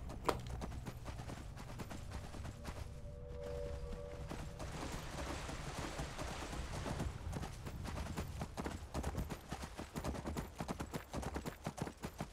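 Armored horse galloping in the video game Skyrim, a rapid, steady clip-clop of hooves running throughout at close range, with a brief tonal game sound partway through and no talking.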